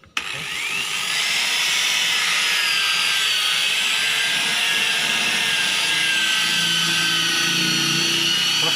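A car paint polishing machine runs at its lowest speed while removing scratches, giving a steady, loud whirring hum with a high whine that holds evenly from start to finish.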